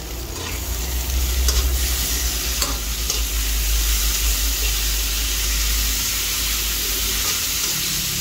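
Chopped tomato stirred into frying onions in a pan for chop suey makes a loud, continuous sizzle with hissing steam and occasional scraping strokes of a utensil, and there is no talk.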